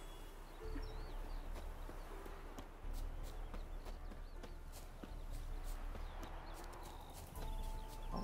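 Horse hooves clip-clopping at a walk in The Witcher 3, an unbroken run of steady, fairly close footfalls over an ambient bed with faint bird and insect sounds, no talking.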